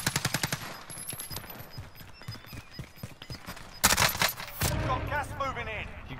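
Rapid gunfire from a shooter video game, a quick run of close, evenly spaced bursts at the start, then scattered single shots and a louder burst of firing and effects near the end.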